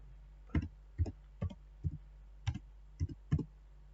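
A computer mouse clicking during software work in SAP2000, seven or eight sharp, quiet clicks in an irregular rhythm against a low steady hum.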